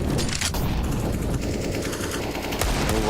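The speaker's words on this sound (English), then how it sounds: "he just kept spamming with the Deagle, and Boros trying to challenge him" Rapid, dense gunfire from a Desert Eagle pistol in Counter-Strike during a professional match, a continuous loud barrage of shots with no talk over it.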